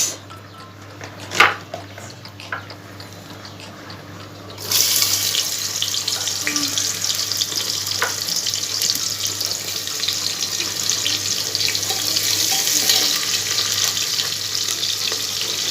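Steady loud sizzling hiss of onions frying in hot oil in a pot starts a few seconds in and continues, after a quieter start with a sharp clink.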